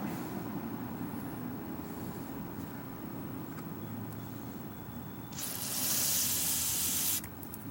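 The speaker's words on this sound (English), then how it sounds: "just going to give it a quick squirt and see what we got coming out" Carburetor cleaner sprayed through the jet of a Toro lawn mower carburetor, a loud steady hiss bursting in near the end over a dull rumbling background, lasting about two seconds before cutting off.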